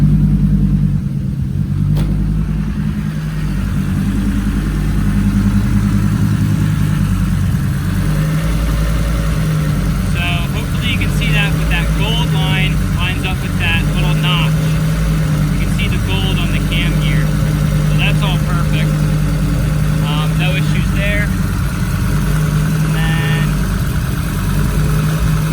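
A Volvo 850 with a big turbo idling roughly after a base tune, a steady low rumble and drone near the microphone with some uneven surging, while a person talks over it.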